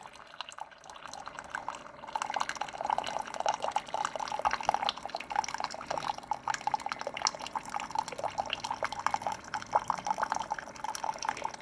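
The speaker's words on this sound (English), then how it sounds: "Got a nice steaming cup of off-grid water here." Hot water from an off-grid emergency backup power setup drips and trickles steadily into a cup, a continuous close patter of drops that picks up after a brief quieter start.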